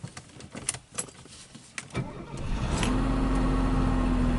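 A few clicks and key jingles, then a classic Mercedes-Benz engine cranks and catches, settling into a steady low idle.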